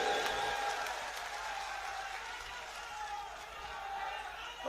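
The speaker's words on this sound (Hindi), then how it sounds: "ताली बजाओ जोर से हिरेंद्र सिंह के लिए।" A large crowd at an outdoor political rally in Raghogarh, Madhya Pradesh, claps in a continuous moderately loud wash of applause with distant crowd murmur underneath.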